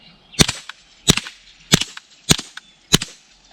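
Five suppressed .22 rifle shots fired semi-auto with CCI Quiet ammunition through a YHM Phantom 22 suppressor, sharp dull cracks spaced about half a second apart, moderately loud and close with no talk.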